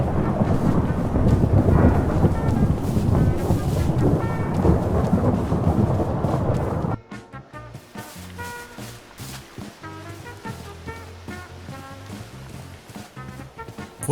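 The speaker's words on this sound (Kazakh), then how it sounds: "Балық аулап отырып жаңбырдың қалай жауып кеткенін де байқамаппын" Heavy rain with loud rolling thunder in a video game fills the first half, then cuts to a quieter scene with soft rain and faint tonal game music.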